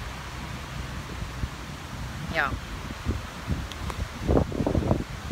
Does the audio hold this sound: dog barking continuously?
no